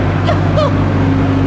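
A Toyota Supra's engine drones low and steady as the car pulls out of an underground night car meet in Dallas, with faint background sounds over the continuous rumble.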